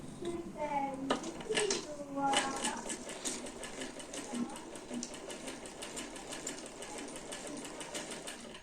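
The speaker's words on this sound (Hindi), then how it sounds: "और आपने सिलाई लगाते जाना है और पिन उतारते जाना है।" A sewing machine stitches the side slit of a shirt, running in a fast, steady rattle after a short stretch of faint voices and clatter at the start.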